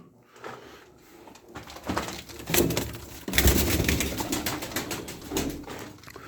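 Tumbler pigeons coo softly in a loft amid fluttering, scratching and shuffling, with some knocking and rustling close by and no voices.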